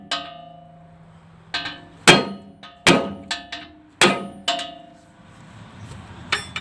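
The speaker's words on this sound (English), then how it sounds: "Now I'm going to be using an 8-pound sledge here" An 8-pound sledgehammer strikes a part of a 3.6L Pentastar engine from a Dodge Charger, giving about seven sharp, loud metallic clangs at irregular intervals, each ringing briefly before fading.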